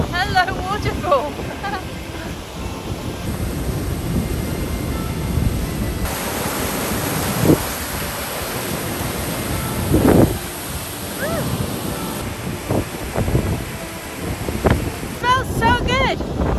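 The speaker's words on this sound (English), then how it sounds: "Hello, waterfall." Grey Mare's Tail waterfall at Loch Skeen roars as a steady broadband rush of falling water, with strong gusting wind buffeting the microphone throughout and brief bursts of louder turbulence, heard close and continuous.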